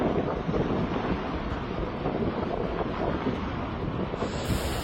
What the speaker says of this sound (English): The wind howled as if it wanted to tear the space apart. The waves stood tall like giant walls